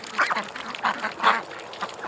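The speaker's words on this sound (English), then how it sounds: "Just look at that for a mess of ducks sleeping." A flock of ducks resting in the shade behind a back shed quack in short, overlapping bursts at moderate distance, a steady chorus with no talk.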